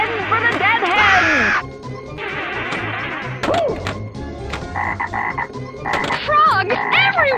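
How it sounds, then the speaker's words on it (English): A 1996 Bally Scared Stiff pinball machine plays loud frog-croak sound effects in quick bursts with warbling tones, layered over a synthesized voice and game clatter. "Frogs everywhere!"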